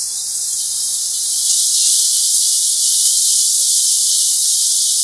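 Chopped onions and green chilies frying in a pan, a steady close sizzle that holds evenly throughout with no talking.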